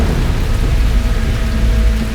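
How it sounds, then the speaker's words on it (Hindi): Heavy rain with thunder in a mythological drama scene, a steady dense downpour with low rumbling underneath, loud and continuous throughout with no voices. "वर्षा, ये तो अशुभ संकेत है।"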